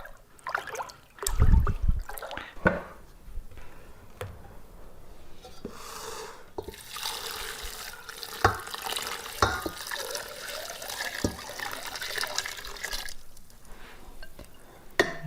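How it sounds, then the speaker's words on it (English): Salt water poured from a container over chopped vegetables in a bowl to make sweet relish, a steady splashing trickle with a louder burst early on and scattered kitchen clatter throughout. "Dissolve the salt in 2 quarts of cold water and pour over the vegetables."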